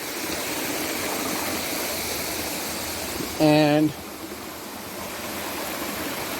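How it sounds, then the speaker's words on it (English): A mountain stream near a waterfall in Guerrero, Mexico, rushing as a steady broadband wash throughout; a person briefly speaks a word over it partway through. "Okay, I'm crossing the stream again."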